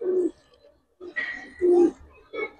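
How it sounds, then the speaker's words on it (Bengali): A large female pigeon, a Giribaz-type bird, coos close by in four short, low, throaty bursts with uneven gaps between them, with no other voices or background noise around it. "এটা একটা মাদি কবুতর ভাই"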